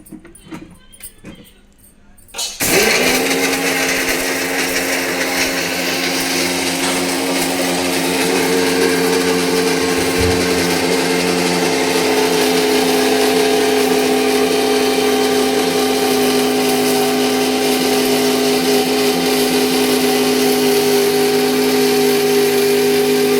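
A kitchen mixer grinder whirs steadily, grinding ingredients down into a powder: a loud, continuous motor hum with a strong sustained tone that starts abruptly after a brief quiet moment and runs unbroken to the end.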